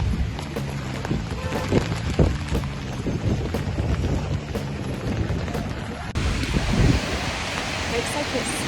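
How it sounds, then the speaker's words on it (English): Heavy rain pours steadily in London as a dense, continuous hiss of falling water, close and fairly loud, with scattered drop impacts and a shift in tone partway through. "It's pouring in rain"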